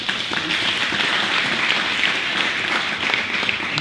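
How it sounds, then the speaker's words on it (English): A large crowd applauds steadily, a dense wash of clapping that holds even and loud throughout. "Clap your hands if you're married."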